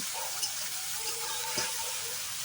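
Chopped onion frying with cardamom and garam masala in a pan, a continuous moderate hiss with faint stirring movements, close.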